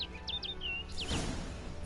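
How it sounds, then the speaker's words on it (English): A bird in The Witcher 3 game world gives a few quick, bright chirps and a short warbling call, close and clear over soft ambient background. "Look at the bird."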